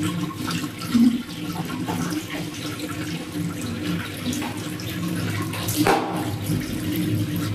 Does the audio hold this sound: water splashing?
yes